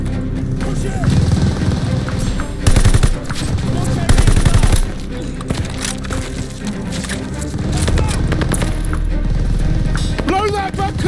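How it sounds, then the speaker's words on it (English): Machine gun fire in a World War II battle game set in France, 1944, mixed with other gunshots and battle noise, with dense loud bursts throughout and shouted voices over the fighting. "Need to deal with that MG!"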